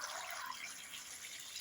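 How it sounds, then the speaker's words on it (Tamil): Soft, steady splashing of water used to rinse gooseberries being poured, a faint hissing trickle without voices. "அலசின நெல்லிக்காயோட தண்ணியை ஊற்றிக்கலாம்"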